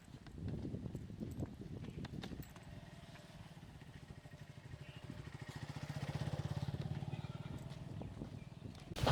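Dairy cow hoof steps on a Pabna farm, a run of rhythmic clopping footfalls close by that builds in the middle of the clip, with faint talk early on.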